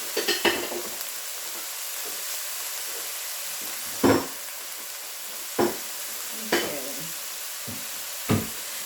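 Peppers and onions fry in a pan for chicken fried rice, giving a steady soft sizzle broken by several sharp scraping stirs of a utensil against the pan, close and with no talk.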